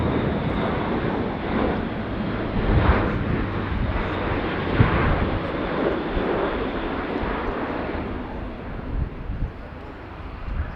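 A400M military transport aircraft flying at the Royal International Air Tattoo, a broad, steady engine roar that holds loud and close throughout, with some wind buffeting on the microphone.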